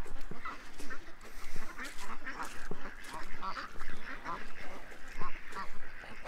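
Several ducks quack repeatedly in an uneven chorus behind a fence, fairly close, against a rustling outdoor background.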